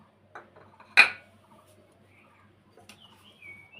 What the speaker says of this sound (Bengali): করলাটা প্রথম কেটে নেব